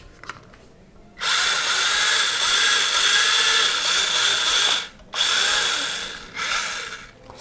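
High-pitched electric whine of a Mini-Z MA-020 RC drift car motor spinning up fast, a steady buzzing drone held for several seconds, cutting out briefly twice and then resuming.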